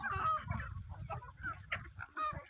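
Free-range village chickens cluck steadily and close by while being fed scattered rice and small pieces of chapati, with several birds calling over one another in a busy, continuous chatter.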